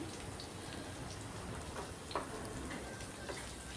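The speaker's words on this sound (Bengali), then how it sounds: "বিরিয়ানিটা ডেকোরেশন করার জন্য বেরেস্তা লাগবে, তাই বেরেস্তাটা প্রথমেই ভেজে নিচ্ছি।" Onions for biryani beresta frying in hot oil over full gas heat, a faint, steady crackling sizzle with occasional soft pops.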